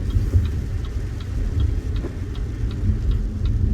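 A 2023 BYD Seal Performance electric car driving on a road, a steady low rumble of road and tyre noise with faint periodic ticking, continuous and moderately loud, no talking.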